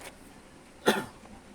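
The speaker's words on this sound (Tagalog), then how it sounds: "Sensya na po medyo may ubo pa tayo." A single short cough sounds close by, a brief throaty burst against quiet background.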